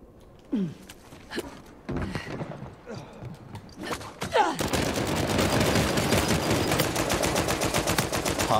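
Gunshots in Uncharted 4 multiplayer, a few scattered single shots at first, then sustained rapid automatic fire that keeps going to the end.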